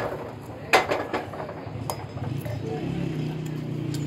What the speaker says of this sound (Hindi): अब आपने इसमें पिनियन डालना है वापस।